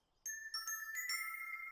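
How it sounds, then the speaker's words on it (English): A bell sound effect from the cartoon Mickey Mouse Clubhouse, a bright ringing chime struck several times in quick succession and left to sustain, clean and alone. "that's a bell"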